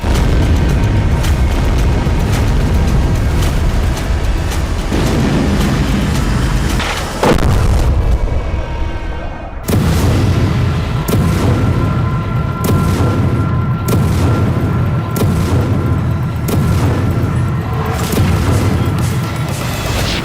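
Explosions from a Ukrainian drone attack in Rostov, Russia, with loud, repeated booms and crashes landing one after another over a constant roar, and no voices.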